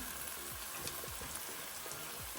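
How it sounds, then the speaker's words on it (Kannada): A medium-sized tomato fries in a pan for radish sambar, giving a steady close sizzle with small scattered pops and crackles and no talking. "ಇವಾಗ ಇಲ್ಲಿ ಟೊಮೊಟೊ ಕೂಡ ಚೆನ್ನಾಗಿ ಫ್ರೈ ಆಗಿದೆ"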